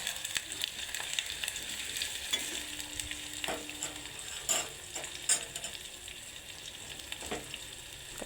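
Onions fry quietly in a pan with a little salt, a soft steady sizzle broken by occasional stirring scrapes and taps.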